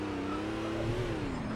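A car engine drones steadily in the PS2 video game Scarface, a close, loud and continuous hum that rises slightly in pitch and then eases back, heard on its own.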